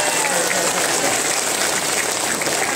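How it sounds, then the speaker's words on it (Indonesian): A village crowd at a religious talk in Teluk Labuan, Pandeglang claps for the fishermen, a dense, even wash of applause holding steady throughout at moderate loudness. "Tepuk tangan dulu dong buat nelayan"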